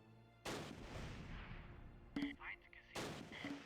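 Mortar fire in the Close Combat video game: a heavy blast booms and rolls away, then two more explosions follow with crackling debris, heard at moderate distance.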